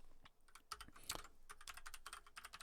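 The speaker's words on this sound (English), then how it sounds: "this keyboard is really starting to wind me up" Rapid, irregular clicks of typing on a computer keyboard, close and crisp, with uneven bursts of keystrokes and no talking.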